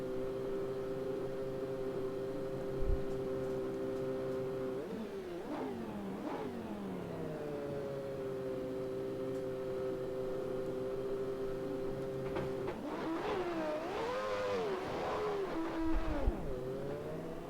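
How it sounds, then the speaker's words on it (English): A simulated Williams FW14 Formula 1 car engine in Assetto Corsa idles with a steady high drone, then blips and revs up and down in sharp swoops, ending with a longer series of rising and falling revs as it pulls away. "So we'll get the engine fired up here and we'll show you the circuit."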